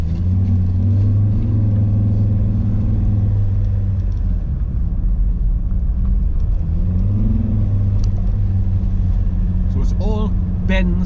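A car climbing a steep uphill valley road through tight S-bends, its engine giving a steady, close, low rumble throughout, with faint higher chirps near the end.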